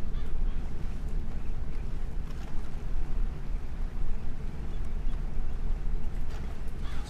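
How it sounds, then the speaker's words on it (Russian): Gulls and ducks call by a river at dusk, scattered honks and cries rising over a constant outdoor rumble of wind and water, moderately loud and continuous, with no talking. "Чайки, утки нам не подходят."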